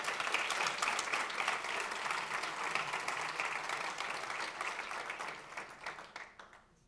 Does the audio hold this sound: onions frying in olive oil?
no